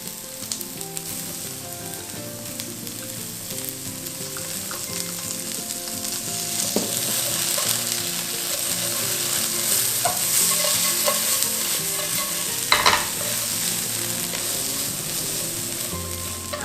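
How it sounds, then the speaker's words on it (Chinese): Old ginger, large chilies and spicy bean paste sizzle and are stirred in a wok, a steady loud frying hiss with occasional scraping of the spatula, no voices. "我们放入老姜、大辣椒，还有我们的辣豆瓣酱，把它下去一起炒香"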